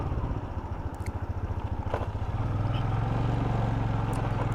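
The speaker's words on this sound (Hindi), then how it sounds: "बाइक चलाते जा रहे हैं।" A motorcycle engine throbs in a fast, regular pulse while riding along mountain roads between Lachung and Gangtok, close and loud, then settles into a smoother steady drone as it holds speed.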